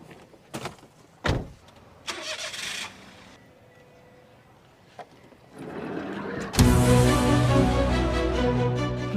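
A car's doors clunk and thump a few times, then an engine rises into a steady running drone as the vehicle pulls away, loud and close with no talk.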